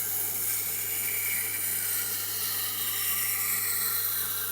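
A Huusk knife gets its initial rough grind on a Tormek sharpener: a continuous low motor hum sits under a steady scraping hiss of steel against the wheel, even and unbroken throughout.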